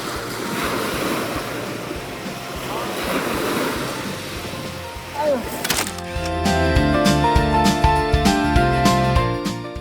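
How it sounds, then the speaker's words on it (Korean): Ocean waves at Seonnyeobawi Beach in Incheon, South Korea wash and surge onto the shore with gusty wind noise, then gentle music starts up and plays over the surf. "파도 소리와 함께 시작되는 하루는 언제나 특별합니다."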